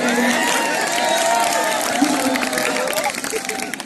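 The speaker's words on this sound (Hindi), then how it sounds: "आप लोग तालियां बजा करके उसका अवलोकन किया करिए भाई।" Spectators clapping and cheering at a school kabaddi match, a dense crowd roar with scattered claps under a voice talking over it throughout.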